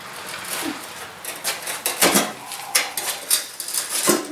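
A heavy snow blower found by the roadside is hauled back upright, giving off a close run of metallic clunks, knocks and rattles at an uneven rhythm.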